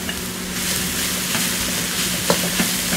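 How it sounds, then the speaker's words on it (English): Riced cauliflower sizzles in olive oil in a pan, a steady close frying hiss with a few soft stirring scrapes and clicks. "I'm first starting by drying my rice, so extracting the moisture from the cauliflower"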